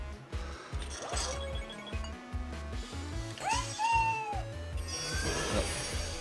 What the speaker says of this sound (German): die Katze, die hatte ich schon vor.